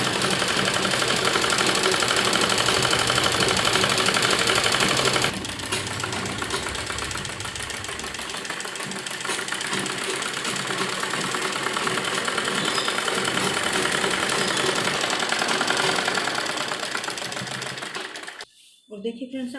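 A sewing machine double-stitches the seam of a lined A-line palazzo, running loud and steady with a dense mechanical whir, easing to a slightly softer pace midway and stopping abruptly near the end; a voice speaks over it.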